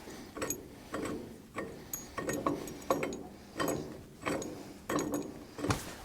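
A ratchet wrench clicks in short repeated strokes while tightening a bolt on a Farmall 140 cultivator arm, steady rhythmic bursts of metallic ratcheting, close and clear with no speech.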